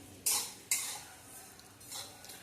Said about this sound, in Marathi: आता बडीशेप पण भाजून घेते कमी गॅसवरती